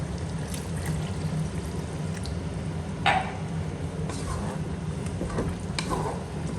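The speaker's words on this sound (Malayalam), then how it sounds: "ഒരു ഗ്ലാസ് വെള്ളം കൂടെ ഞാൻ ചേർക്കുകയാണ്" A glass of water poured into simmering chicken curry gives a soft, continuous wet trickle over a low bubbling background, with one brief louder splash partway through.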